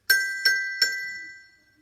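Glockenspiel metal bars struck with hard mallet heads, three bright ringing strikes evenly spaced, loud and close, each with a sharp attack and a shimmering decay that fades out after the last hit.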